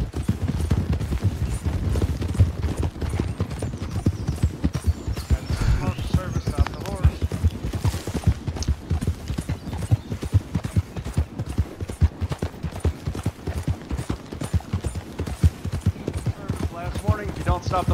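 Horse hooves clip-clop steadily in a Western video game during a fort robbery, a busy rhythmic trot running the whole time under game sounds and someone talking.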